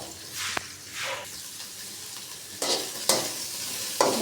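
Coconut, onion, ginger and garlic frying in a spoonful of oil for horse gram sambar, with soft sizzling and several sharp scrapes and clicks of a spoon stirring the pan, close by and no one talking.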